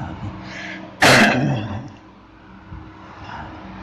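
A single sharp cough, loud and close, bursting out against a soft background of low murmuring during a religious lecture.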